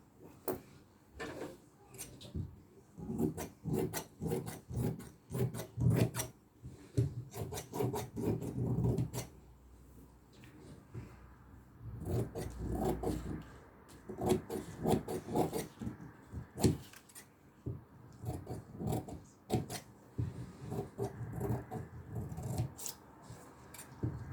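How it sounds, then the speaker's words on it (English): Scissors cutting organza fabric pieces for a 3D flower applique, with steady close snipping and rustling in repeated bursts and a short pause near the middle. "now we're going to cut this out and then cut each one into smaller cubes"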